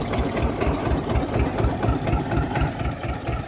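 Eicher 241 tractor, a 1994 241NC model hitched to an 8-foot rotavator, idling with a steady low diesel chug. The pulsing beat is loud and close, with no talk over it.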